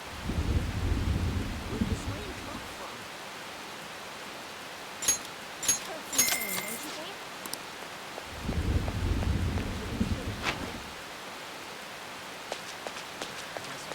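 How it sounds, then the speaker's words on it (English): Heavy rain in Persona 5 Royal carries a low rolling thunder-like rumble in two swells. Softer rain hiss and a few sharp game sound effects fill the gap between them. "It's raining really hard."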